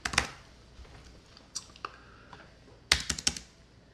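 Someone types on a computer keyboard in a few short bursts of sharp, close clicks separated by quiet pauses. The key presses are faint to moderate, with no speech.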